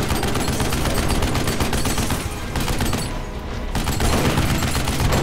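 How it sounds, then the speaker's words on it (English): Dense, continuous loud explosive firing and booms in the Duke Nukem Forever video game, rocket launcher fire blending into a sustained barrage with a brief dip midway, no talking. "Is that a rocket launcher?"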